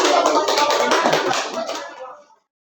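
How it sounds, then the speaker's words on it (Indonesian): A classroom group of students gets a round of applause: dense, many-handed clapping from a small crowd holds steady for about two seconds and then dies away into silence. "Tepuk tangan untuk kelompok beda."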